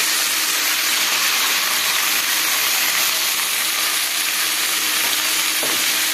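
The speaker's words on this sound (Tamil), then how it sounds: "அந்த புதினாவை கொஞ்சம் கொஞ்சமாக போட்டு நல்லா வதக்கிக்கலாம்" Mint leaves sauté in a hot pan for chutney, giving a loud, dense, steady sizzle close up that continues unbroken throughout, with no voices.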